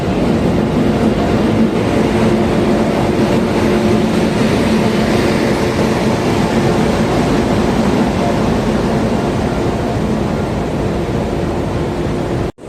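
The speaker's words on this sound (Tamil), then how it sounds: "ஷார்ப்பாக 12:50க்கு நம்மளுடைய மைசூரு கடலூர் ஃபோர்ட் எக்ஸ்பிரஸ் வந்து உள்ளே வருதுங்க." A Mysuru–Cuddalore Fort Express train arrives at a station, a loud, steady rumble and rolling rail noise that holds for about twelve seconds before cutting off.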